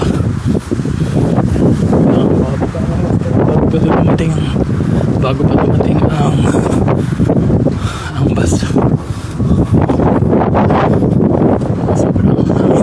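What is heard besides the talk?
strong wind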